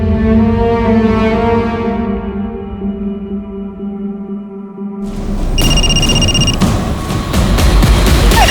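A loud, sustained electronic ringing tone with a steady pitch, followed by a denser burst of noise and higher chiming tones.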